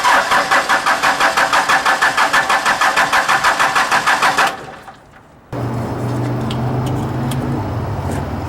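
A 4BT Cummins diesel engine with a newly replaced turbo cranks in steady rhythmic pulses, goes quiet briefly, then catches and runs with a loud, even clatter.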